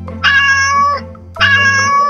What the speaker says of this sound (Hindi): बिल्ली अभी भी ऊपर ही थी, नीचे नहीं आई थी, और वहां से वो जोर जोर से चिल्ला रही थी